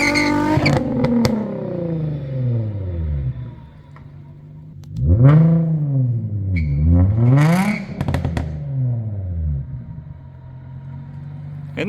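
A Nissan G35 coupe with a swapped VK56 V8 launches hard and spins both rear tires, the engine roaring up through rising revs with a brief drop and a second surge at the shift, loud and close in a yard.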